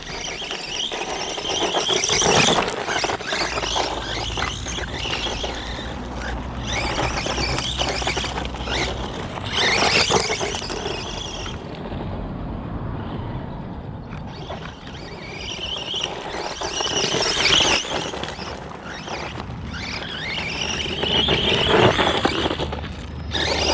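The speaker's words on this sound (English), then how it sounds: "What a cool little buggy." A ZD Racing brushless 1/16-scale RC desert buggy drives continuously, its electric motor whining and rising and falling in pitch with bursts of speed, tires scrabbling over the ground, fairly loud and steady with no talking.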